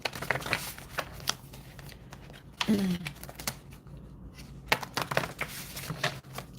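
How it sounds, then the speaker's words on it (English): Someone shuffles a deck of handmade cards, some of them blank, in quick papery riffles and taps with brief pauses, close and clear with no talk. "Some of these are blank just to make it heavier so I can easily shuffle."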